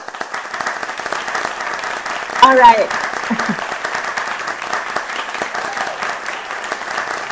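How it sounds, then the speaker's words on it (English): Debate participants in a Malaysian debate session clapping in a light, sustained round of applause, with a brief spoken remark breaking through partway. "let's just give a round of applause to each other"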